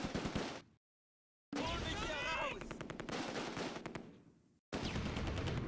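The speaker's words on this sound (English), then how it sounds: "The machine gun has 2 belts of ammunition and targets the 3-storey farmhouse" Machine gun in the Close Combat video game firing belts of ammunition at a three-storey farmhouse: dense rapid bursts of gunfire, loud, broken by a silent gap and resuming, with a voice talking over it.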